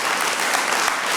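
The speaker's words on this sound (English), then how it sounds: "Keep clapping." Sustained applause from an audience at a public meeting, dense and steady throughout without a break.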